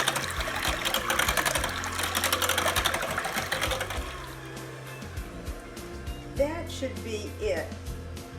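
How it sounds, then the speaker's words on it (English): A hand blender whirs steadily through evaporated milk and custard pie filling. The motor buzzes loudly for about four seconds, then runs more quietly with clattering and sloshing against the bowl. "I like to take and mix it all with a hand blender."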